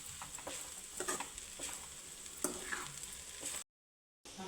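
Egg and cauliflower curry with fresh coriander fries in a pan, giving a steady close sizzle dotted with small ticks and crackles before the sound cuts out briefly near the end.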